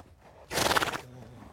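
A large horse in a mountain pasture in winter gives a short, harsh, quavering whinny of about half a second, fairly near, with quiet surroundings before and after.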